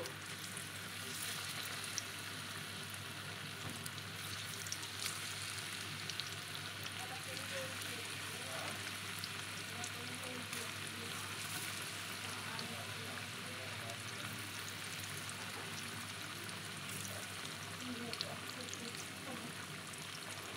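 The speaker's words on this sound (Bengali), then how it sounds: "ভাজা হয়ে গেছে, এগুলো আমি তেল থেকে অমনি তুলে নিলাম।" Chicken pieces deep-fry in hot oil in a home kitchen while chilli chicken is being made. The loud, steady sizzle and crackle hold evenly throughout, with occasional stirring sounds.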